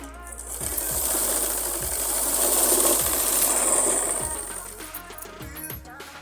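A sewing machine runs steadily for several seconds, stitching a side seam of a pahuncha (trouser cuff) over buckram, with a continuous whirring drone and a rhythmic low thumping of the needle, close and fairly loud.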